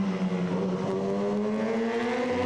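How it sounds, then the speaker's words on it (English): Superbike engines rev up hard exiting turn 9 at Sydney Motorsport Park during an Australasian Superbike Championship race, a rising high-pitched engine whine that climbs steadily, loud and continuous. "Listen to the revs build up as they exit that turn number 9"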